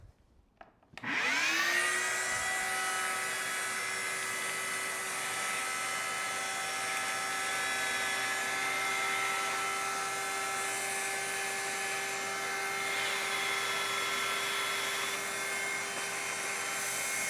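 A drill bores into a 2-bolt main engine block at a steady, high-pitched, unbroken drone, starting abruptly and running on loud and close without pause.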